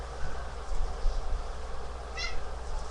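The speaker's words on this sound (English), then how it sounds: "there's my kitten" A pet kitten gives one short, clear meow indoors against a low background rumble and shuffling noise.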